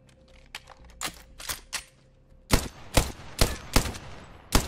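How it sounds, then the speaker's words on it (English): Gunfire in the video game Apex Legends: scattered single shots and short bursts early on, then a series of loud, evenly spaced heavy reports, close and crisp, with no talking over them. "Look, I can shoot."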